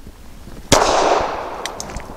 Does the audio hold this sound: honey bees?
no